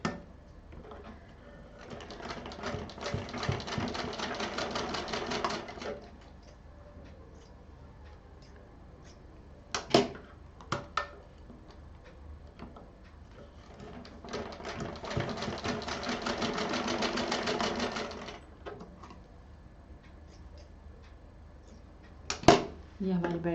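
A sewing machine stitching a fabric belt for a DIY storage pouch runs in two long, even bursts of rapid stitching separated by quiet pauses and a few sharp clicks of handling.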